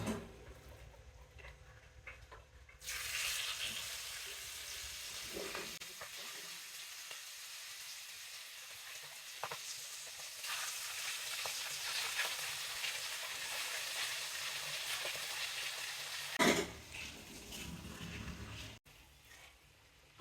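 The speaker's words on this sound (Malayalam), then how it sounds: "പൊരിക്കാനുള്ള എണ്ണ ചൂടായി കഴിഞ്ഞ്" Coconut chicken frying in hot oil, a steady moderate sizzle that starts after a few seconds of quiet and runs on, with a brief louder clatter near the end and no speech.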